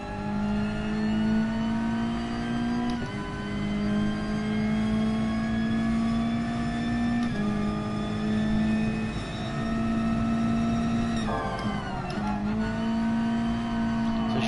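A race car engine at full power in GT Sport drones loudly and steadily, holding a high revving note with brief dips at gear shifts, continuous and close with no talk.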